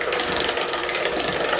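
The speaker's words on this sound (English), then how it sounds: "now I'm going to get my hand mixer and I'm just going to mix this up" Electric hand mixer beating Butterfinger cake batter, a steady close whirring buzz with a rattling mechanical edge, running continuously for a short stretch without talk.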